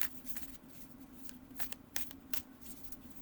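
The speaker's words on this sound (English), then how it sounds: "shuffling should be very easy with these cards since they are very flexi-bendy and glossy, very smooth" Glossy, smooth, flexible tarot cards being shuffled by hand, a close series of crisp riffling bursts and soft slaps that come in quick uneven clusters.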